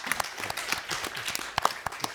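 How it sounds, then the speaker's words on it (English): Audience applause for a conference panel, a steady crackle of many hands clapping at moderate distance with a few sharper, louder claps standing out near the end. "Let's give them a round of applause before they start to encourage them."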